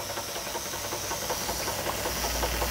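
A vintage American Jensen Model 70 model steam engine runs with a steady hiss of steam and a rapid, light mechanical chuffing rhythm throughout.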